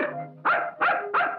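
A dog barks three times in quick succession, each bark loud and close, with a softer whimpering tone just before.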